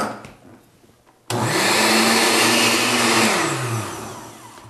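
A blender used to grind papadum ingredients kicks on abruptly after a quiet stretch, a loud steady whirring motor roar that holds for about two seconds, dips in pitch, then eases slightly.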